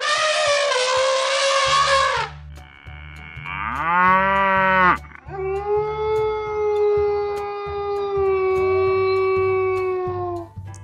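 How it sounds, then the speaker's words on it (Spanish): Several cows moo one after another, long drawn-out bellowing calls with rising and falling pitch, loud and close, with a steady low rhythmic backing underneath and no talking. "otros animales como las vacas al mugir"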